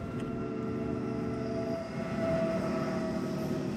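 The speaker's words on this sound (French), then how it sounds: "Sur la place, le tramway a succédé au bus." A tram rolling across a town's central square, its steady rumble and faint tonal hum of the rail car passing nearby, sustained and moderately loud with no voices.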